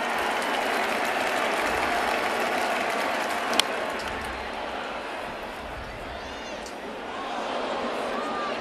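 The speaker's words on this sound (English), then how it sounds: "Big crowd." A big stadium crowd on opening day at Yankee Stadium, Giants against Yankees, gives loud, sustained applause and cheering, with a sharp crack partway through and a broadcaster talking over the noise.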